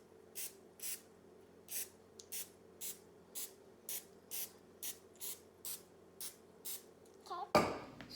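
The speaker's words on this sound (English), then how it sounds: "I have to spray it with the, what's this? The cooking spray" Short hissing bursts of cooking spray into a baking pan repeat at an even rhythm, about a dozen in a row, fairly close, followed by a brief clatter at the end.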